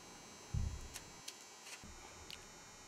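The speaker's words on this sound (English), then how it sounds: "The humming that you hear is the electric coils that turn on and off to heat the crucible." Electric coils of a Vevor electric melting furnace hum steadily while heating a crucible of die-cast zinc, a faint continuous tone with a low thump and a few soft ticks.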